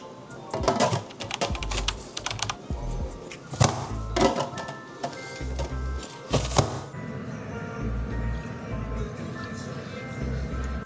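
An Aldi onion chopping gadget cutting onions, giving irregular clacking snaps and dull thuds in quick clusters, fairly close, over low background tones.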